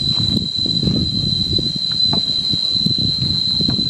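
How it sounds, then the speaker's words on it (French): Cicadas in the Koh Samui mountains, a loud piercing continuous high buzz like a jigsaw, steady throughout with lower rustling and footsteps beneath. "Écoutez les cigales, on dirait des scies sauteuses."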